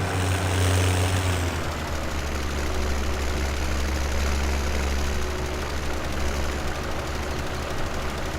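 A tractor engine in Farming Simulator 17 drones steadily with a deep low rumble, a louder revving burst in the first second settling into an even, continuous hum throughout.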